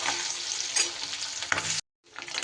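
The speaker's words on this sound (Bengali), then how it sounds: "মাছের তেলটা খুব ভালো করে আমার ভেজে নিতে হবে, একদম লাল লাল করে" Fish fat fries hard in a pan with a loud, dense sizzle while a spatula scrapes and stirs it, breaking off abruptly for a moment before the crackling returns.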